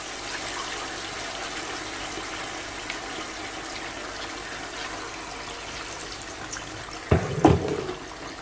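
Hot water is poured into a pan of frying orzo, a steady wash of sizzle and flowing liquid that ends in a short, louder splashing gush near the end.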